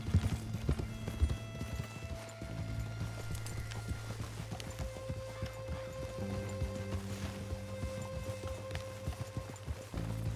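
Horse hooves clip-clop in a steady galloping rhythm in Red Dead Redemption 2, close and continuous over sustained game music tones.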